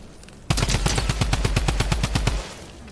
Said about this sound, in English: I see these gunshots going off